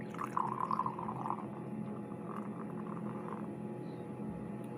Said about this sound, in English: let's pour it a little bit in the glass just so you can see the color yourselves